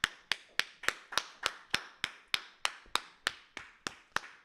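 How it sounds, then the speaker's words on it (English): A single pair of hands claps in a steady, evenly spaced rhythm, about fourteen sharp claps over a few seconds, fairly close and with no voices; it sounds like one person rather than a crowd. "Let's clap it up."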